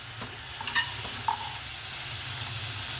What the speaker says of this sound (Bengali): এখন বড়িটা দিয়ে দিই, ভাজা বড়িটা।